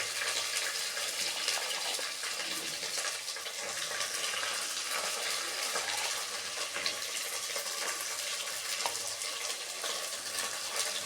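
Mustard seeds splutter and crackle in hot oil in a pan for sambar, a dense, steady frying hiss peppered with tiny pops, close and continuous with no talking.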